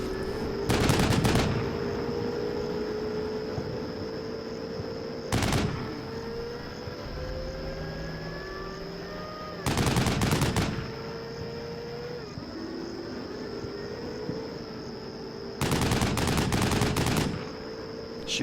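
Bursts of machine-gun fire in a military combat video game, four loud rattling volleys spaced several seconds apart over a steady insect-like background hum.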